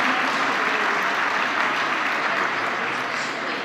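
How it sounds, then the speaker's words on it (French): Dense audience applause during a live event at the CESE in Paris, a loud, even roar of many hands clapping with no pauses throughout. "Applaudissements pour la buvette, évidemment."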